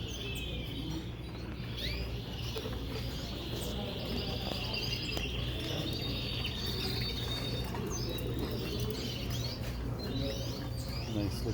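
Caged canaries chirp and tweet intermittently in a show hall during a canary competition, light calls scattered over a constant low indoor hum.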